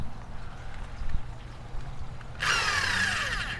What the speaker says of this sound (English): Okay, now we can start with the hole saw.